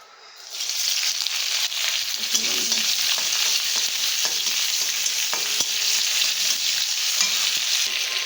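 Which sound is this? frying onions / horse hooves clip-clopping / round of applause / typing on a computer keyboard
frying onions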